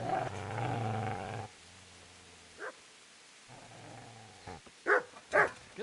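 A dog growls low and continuous, falls briefly quiet, then growls again and gives a few sharp barks near the end, close and fairly loud.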